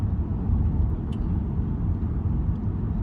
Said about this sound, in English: Obviously it's a diesel and it's a V6, so it will give a little bit of grunt